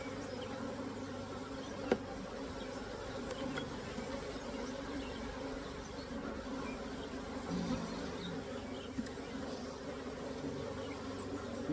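Honey bees drone in a dense, steady buzz from an opened beehive during a hive split, a close and constant hum with a few faint clicks and no talk.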